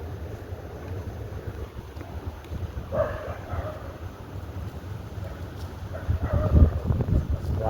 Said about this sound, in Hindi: भाई इतनी अच्छी हवा चल रही है ना